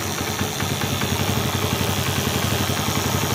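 A TVS XL100 BS6 moped at engine start with a fuel pump motor fault gives a steady, close idling engine hum with a faint whirring motor noise running under it throughout.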